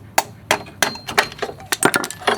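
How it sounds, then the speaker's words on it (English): A hammer drives a screwdriver to tamp a drive shaft out of a car's front axle assembly during a wheel bearing replacement: a series of sharp, ringing metallic blows at an uneven rhythm, close and loud. "Get a hammer and a screwdriver and tamp the drive shaft out of the axle assembly."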